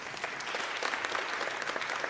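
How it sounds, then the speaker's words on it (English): At a Board of Supervisors meeting, the audience gives steady, even applause for a community coalition, a dense patter of many hands at moderate volume. "So let's give an applause to the Coalition."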